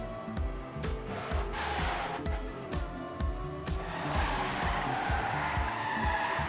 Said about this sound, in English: Oh, and then it's Flyer's turn to crash in this difficult turn.